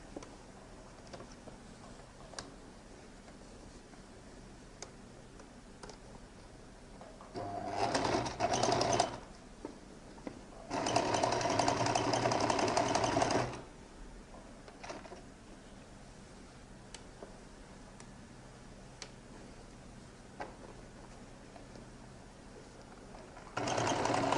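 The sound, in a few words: sewing machine top stitching a jacket lining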